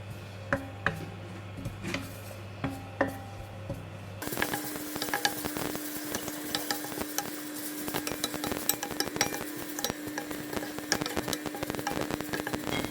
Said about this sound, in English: Slowly stir fry until it dried up and become brown color.